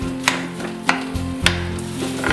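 A spatula stirring cooked tapioca in a pressure cooker, with a few sharp scraping knocks at roughly half-second intervals over a steady low hum and faint sizzle, and no talking.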